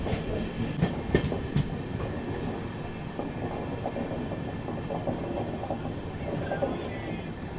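The Venkatadri SF Express (12798) rolls into Pakala junction station, a continuous close rumble of wheels and carriages with light clatter and faint squeal, no voices.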